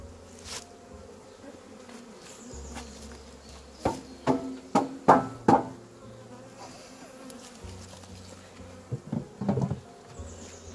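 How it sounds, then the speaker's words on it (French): Bees buzz in irregular bursts, loud and close at moments, with soft rustling and tapping in between, while a beekeeper makes an artificial swarm. "des abeilles"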